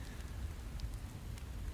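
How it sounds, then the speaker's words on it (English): Steady, soft rain hiss falls continuously in the video game The Infected, a faint even patter with no voices over it. "It's raining."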